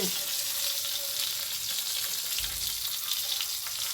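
Okra frying in a pan, a dense, even sizzle held close and steady throughout, with no voices.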